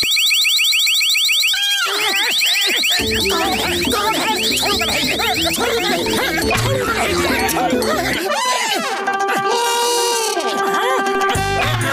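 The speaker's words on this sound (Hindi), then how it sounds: "अब कोई भी इस तिजोरी को छुएगा तो अलार्म बज जाएगा" A cartoon alarm rigged to a safe rings out loudly, a busy electronic wail of repeating tones running almost continuously and ending in a long, steady siren-like blare.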